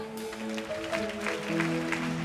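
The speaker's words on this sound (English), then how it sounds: "Clap your hands." A church congregation claps along, soft and somewhat distant, with rhythmic hand claps over sustained organ-like musical tones.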